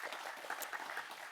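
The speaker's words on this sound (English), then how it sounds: "let's give them a quick round of applause" A brief round of applause from a conference audience honors faculty champions, a soft, even patter of clapping heard from a distance.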